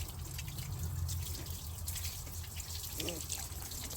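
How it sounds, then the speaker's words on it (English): Water sprayed onto the engine of a 1993 Dodge W250 truck, a faint continuous hiss and splatter with low rumble underneath, steady throughout. "Just make sure to water your engine real good"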